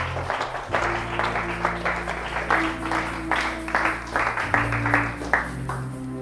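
A church congregation applauding, a steady run of hand claps with scattered cheering that swells and fades over several seconds, fairly close and loud.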